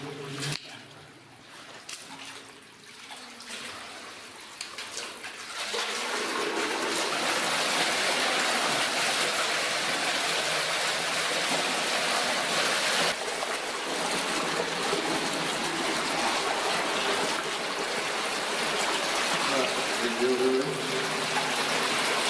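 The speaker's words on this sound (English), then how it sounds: "See if we can get the water flowing on that top one, or she'll all bust at the same time." Water flowing through an old, dark, muddy mine tunnel past a small dam, a steady rushing trickle that swells after a quieter start and stays loud and close.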